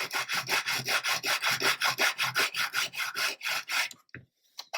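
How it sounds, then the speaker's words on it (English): Rapid rhythmic rasping of a coarse sanding stick scraping back and forth across a small part of a 1/35 scale Tiger tank model kit, about twenty quick strokes, close up, then stopping. "this is where these really coarse sanding sticks come into their own"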